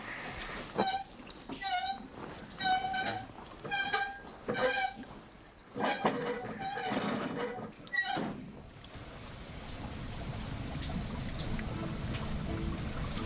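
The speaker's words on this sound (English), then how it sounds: "I can hear the water." Water flowing in a formal French garden, a soft steady rush that rises and holds in the second half, after a stretch where a person speaks over it.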